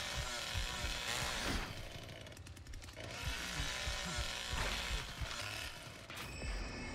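Chainsaw in The Texas Chain Saw Massacre video game, a loud, close buzzing engine that revs up and down in repeated surges with rattling mechanical clatter, continuous throughout.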